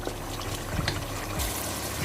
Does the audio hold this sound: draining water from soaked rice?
yes